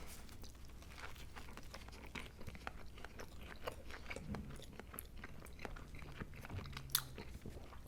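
Biting and chewing on a Burger King fish sandwich with pickles and tartar sauce, close-up crunchy bites and wet mastication with faint wrapper crinkles, steady over several seconds with no talking.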